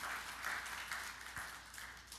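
Church congregation applauding for Jesus during a sermon, a steady wash of many hands clapping at moderate distance, fairly soft and even throughout.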